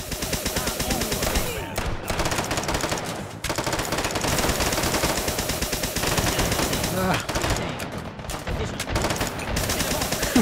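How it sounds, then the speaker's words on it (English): Rapid automatic gunfire from the VR shooter game Hot Dogs, Horseshoes & Hand Grenades, played on HTC Vive, with dense sustained bursts that pause briefly around two and seven seconds and loud, close shots throughout. "I'm gonna shoot you in the face multiple times"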